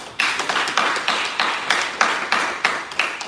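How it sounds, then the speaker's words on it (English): Brisk, evenly spaced clapping from a small group, a steady run of sharp claps with no voices. "can I hear a round of applause?"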